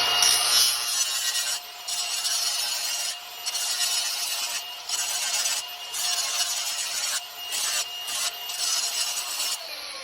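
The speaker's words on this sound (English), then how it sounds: "We'll take the pipe and we'll bevel the edge of the pipe to make it go in better." Rhythmic rasping strokes, about a dozen back-and-forth passes close up, as a tool bevels the edge of a plumbing pipe during a repair of rotted pipe.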